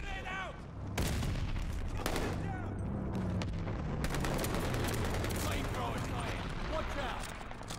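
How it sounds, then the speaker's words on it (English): Stun grenade bursting amid heavy gunfire in the multiplayer shooter Call of Duty: Vanguard, sharp blasts and rattling shots over a dense, chaotic battle din with voices shouting. "Stun grenade out!"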